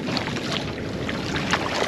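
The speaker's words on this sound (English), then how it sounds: "Here I am on the kayak, moving through the sea moss farm." Gentle, steady water sloshing and splashing from paddling a kayak on the sea through a sea moss farm, with light wind noise across the microphone and no voices.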